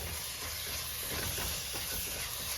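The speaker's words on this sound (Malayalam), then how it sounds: "ഇനി ഇതെല്ലാം കൂടെ നന്നായിട്ട് ഒന്ന് വഴണ്ട് വരട്ടെ" Chopped onions sauté in a hot pan for a Kerala-style crab roast, giving a steady, close sizzling hiss that holds evenly throughout with no voices.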